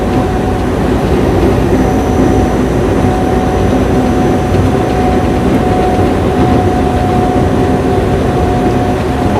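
A freight train rolls past, picked up by a microphone mounted outside a parked semi truck, a loud continuous rumble and roar with a steady tonal whine and no break throughout.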